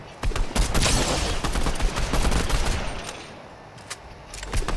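Rapid automatic gunfire in an online shooter game, dense bursts of shots rattling close and loud before easing off, then a few more cracks at the end.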